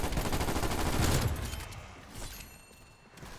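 Rapid gunfire from a regular gun in a multiplayer shooter, a dense close burst of shots that fades after a second or two, leaving quieter scattered sounds.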